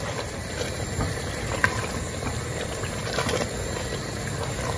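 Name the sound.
beans with baking soda boiling in a covered pot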